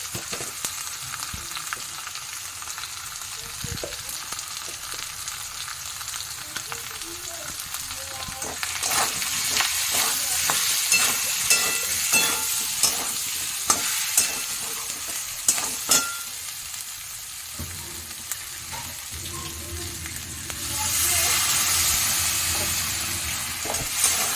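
Chicken frying in a pan, with a constant hissing sizzle and repeated clattering stirring strokes that grow louder and busier midway, then a surge of steam-like hiss near the end.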